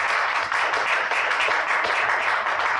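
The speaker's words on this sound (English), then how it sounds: "Please give my guests a round of applause" A studio audience applauds guests on a talk show, dense steady clapping from a crowd that holds at an even level for a few seconds without a break.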